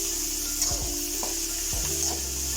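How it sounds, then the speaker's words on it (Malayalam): Onions tipped into a pan with garlic and spices and fried for a pumpkin leaf stir-fry, giving a steady hissing sizzle with a few soft stirring scrapes, close and continuous, no talking. "ഇതിലേക്ക് നമുക്ക് സവാള ഇട്ട് കൊടുക്കാം."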